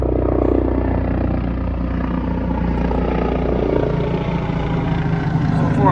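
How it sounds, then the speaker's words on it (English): A steady, loud engine drone with low rotor-like throbbing fills the whole clip, like a helicopter passing close overhead. "And here comes a helicopter."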